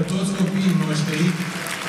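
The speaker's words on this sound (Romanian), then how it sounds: "Haideți să-i aplaudăm pe toți copiii noștri." An audience applauds children from the arts high school at a Christmas show in Bacău. The clapping stays fairly quiet beneath a voice that talks over it the whole time.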